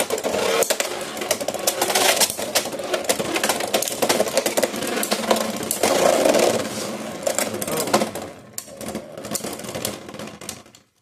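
Beyblade X Dran Brave spinning tops clash and scrape inside a plastic stadium, giving a dense, rattling grind that stays loud and steady for about eight seconds before fading out.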